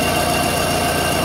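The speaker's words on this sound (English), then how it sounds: "turn the engine on" An outboard motor runs steadily at a low, even idle during a spark plug and CDM ignition test. The engine drone is close and continuous, with no voices.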